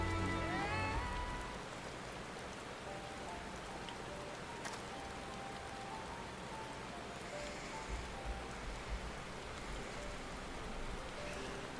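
Soft, steady patter of rain falling in Final Fantasy XIV, a continuous even hiss of drops with a faint tonal blip near the start and no voices.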